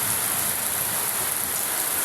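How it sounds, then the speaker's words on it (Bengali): Heavy rain pouring down steadily in the morning after a night of rain, a dense, loud, unbroken hiss with no pauses and no voices. "এখনও প্রচণ্ড বৃষ্টি, খুব বৃষ্টি হচ্ছে"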